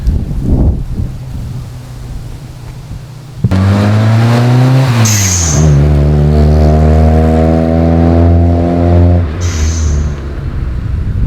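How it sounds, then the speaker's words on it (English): A modified Honda Civic revs hard on a private driveway during burnouts, its engine note climbing and holding in a loud, sustained wail with pitch shifts between gears, preceded by quieter idle and followed by brief tire screech. "Let's go do some burnouts on our private driveway."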